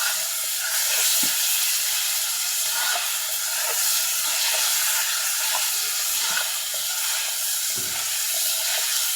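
Pigeon meat frying and being stirred in hot oil in a pan, a steady loud sizzle and hiss with occasional clinks and scrapes of stirring, no talking.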